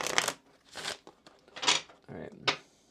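A deck of Kipper cards being shuffled by hand: several short, crisp riffling and flicking bursts in an uneven rhythm, close and fairly quiet.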